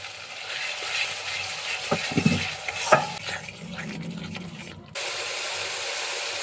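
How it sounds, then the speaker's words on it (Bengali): Spices fry and are stirred in a pan with sugared yogurt for an egg curry. Close scraping and stirring sit over a low sizzle, with a few sharper clanks in the middle before the sound drops to a steady hiss. "মশলা ভাজা হয়ে গেছে"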